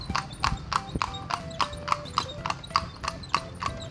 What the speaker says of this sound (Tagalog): Tapos nakasapatos po yung kabayo natin